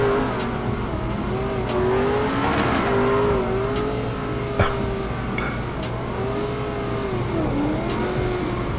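A car engine in GTA 5 revs hard at high speed, with a loud sustained drone whose pitch rises and dips with the throttle, accompanied by faint tire and road noise.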